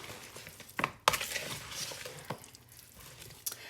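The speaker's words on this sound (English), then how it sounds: "I'm going to get my big old spoon here and kind of just stir it up." A big spoon stirring food in a pan, with scraping clatters and clinks at irregular moments over low background rustle and no talking.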